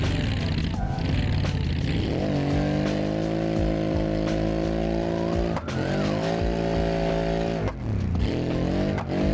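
Drift car in BeamNG, running on motor only without the supercharger engaged, its engine holding a loud, steady high rev for several seconds with brief dips and surges, tires squealing underneath throughout, close and continuous with no talk.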